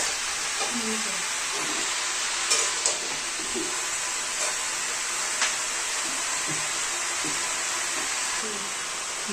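Potatoes frying in a pan while cooking a Bengali cabbage dish, a steady close sizzle and hiss throughout with occasional clinks and stirring scrapes, and faint voices in the background.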